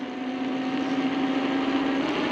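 A 250W 36V rear hub motor on an e-bike hums steadily while riding, a continuous low drone with a faint whine above it, close and unbroken throughout.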